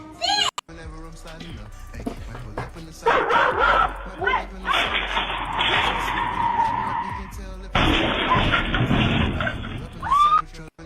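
A dog barks in short, loud bursts at close range, mixed with people talking and other household noise around it.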